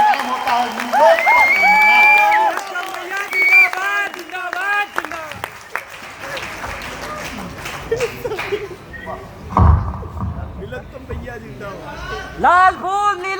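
A crowd at a Hindi kavi sammelan poetry gathering claps and cheers, with loud applause at first, then lively voices and shouts over scattered clapping, and a fresh burst of cheering near the end.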